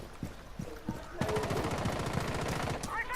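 Rapid semi-automatic weapon fire from the tactical shooter game Rainbow Six, a quick burst of close, loud shots starting after a few faint clicks and continuing steadily for about two seconds.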